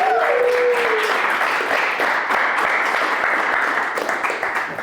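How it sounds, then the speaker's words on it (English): Loud, continuous audience applause at a leadership talk, a dense, even roar of many hands clapping close by that holds steady and fades slightly at the end. "So AJ, let's give him a big round of applause"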